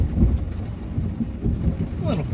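Thunder during a severe thunderstorm with flash flooding in Pennsylvania rolls as a low, continuous rumble through the whole stretch, with some faint background sound.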